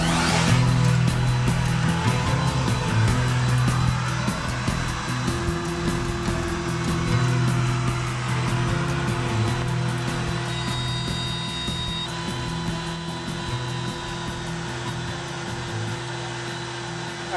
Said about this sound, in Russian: Ну а пока ЧПУ работает